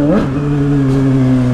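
A Suzuki SRAD 750 motorcycle engine revs loud and close, rising briefly then settling into a steady held drone.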